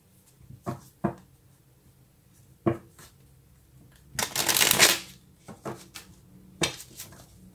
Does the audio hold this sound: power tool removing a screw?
no